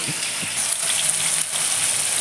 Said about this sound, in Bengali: এখন সবজি ঢেলে দেবো